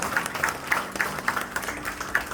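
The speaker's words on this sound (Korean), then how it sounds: "큰 박수로 함께 다시 한번 축하드리기 바랍니다." Audience applause at a Korean professional missions award ceremony, light and fairly sparse, with individual claps spaced across a steady patter and no voices over it.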